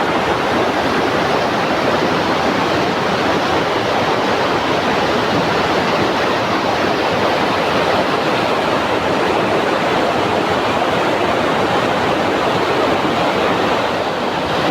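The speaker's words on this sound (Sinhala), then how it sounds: "අර වතුර ඇවිල්ලා මෙතනින් පල්ලෙහාට වැටෙන ලස්සන දියැලක් වගේ." Water pouring down a small forest waterfall in Sri Lanka, a dense, constant roar that stays loud and unbroken, with no voices.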